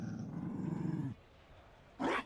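In the video game Dragon Age: Inquisition, a Mabari war dog gives a low, close growl lasting about a second, then a short sharp bark or snarl follows after a brief pause.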